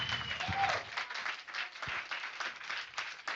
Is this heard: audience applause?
yes